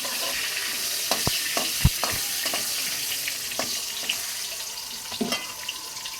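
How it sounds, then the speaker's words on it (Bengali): Spices with green chili and two bay leaves fry in oil in a pan, giving a steady, close sizzle with light stirring clicks and scrapes. "মশলাটা ভাজা হয়ে গেছে, এবার 2টি তেজপাতা দিয়ে দিলাম"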